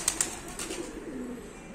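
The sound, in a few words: pigeons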